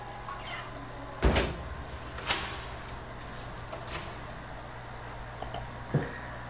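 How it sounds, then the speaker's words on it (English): Someone locking a door: a few separate clicks and knocks of a key and bolt, with a sharper rattle near the start and smaller clicks after, close by in a quiet room with no talking. "there is somebody locking the door"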